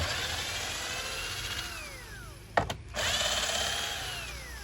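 A power drill drives screws into an Oxy multi-wood kitchen board, its motor whining in long rising and falling sweeps, close and steady, with one brief sharp break midway.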